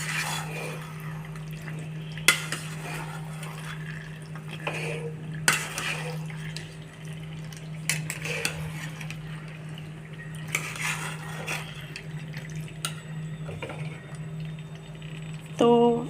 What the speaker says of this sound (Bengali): এটা মিশিয়ে নেবো এবার।